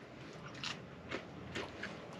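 A few crisp bites into the crunchy crust of homemade bread spread with butter, three or four close, short crunches in quick succession over a quiet background.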